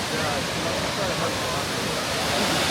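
A natural waterfall in Taiwan pours down like a shower, a dense, loud, steady rush of falling water close by that fills the whole stretch without pause.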